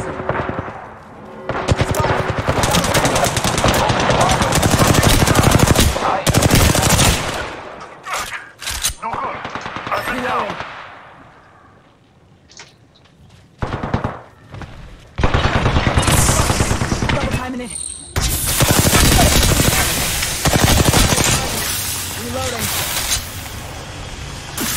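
Apex Legends gunfight with loud, rapid automatic bursts in several volleys, separated by brief lulls, while a player talks over the shooting.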